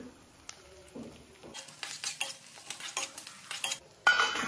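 Sliced onion, curry leaves and chopped green chilies frying in oil while a spoon stirs them in a pan, with close metallic scrapes and clinks over a soft sizzle, ending in a louder burst of frying.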